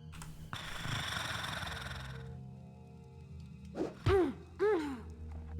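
A guard in the stealth video game Thief lets out a long breathy exhale followed by two short rising-and-falling snores, faint and a little distant with no talking.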